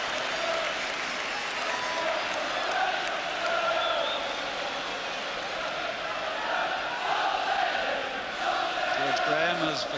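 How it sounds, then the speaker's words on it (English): Large football crowd at Highbury stadium during Arsenal versus Tottenham Hotspur, a steady roar of many voices with scattered shouts and clapping, broad and distant-sounding, continuous throughout. "another terrific crowd here at Highbury"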